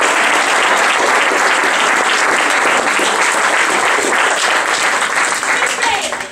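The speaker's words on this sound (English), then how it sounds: "Can we give a round of applause for our fifth grade?" An audience claps loudly and steadily for fifth grade class speeches at a school event, a dense sustained round of applause that tapers slightly at the very end.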